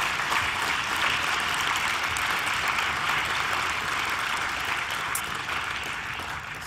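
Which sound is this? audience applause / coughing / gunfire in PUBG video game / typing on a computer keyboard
audience applause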